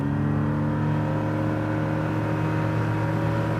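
A small boat's engine revs out on the water in mid-December off Charleston, South Carolina, a loud, steady droning whine with strong sustained tones and no pause, heard alone.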